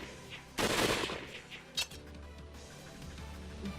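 Soldiers' gunfire in the video game Hakuoki: Edo Blossoms: a loud burst of shots followed by a second sharp crack, set against a quiet background.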